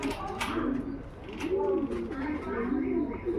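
A giant-sized racing homer pigeon with an uncommon color gives low, throaty coos in repeated rolling phrases, close by, with a voice partly audible underneath.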